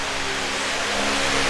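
A turbocharged Holden VL engine on a tuning run at raised boost, a steady loud broadband roar with a faint hum under it, holding one pitch for a short stretch with no voices.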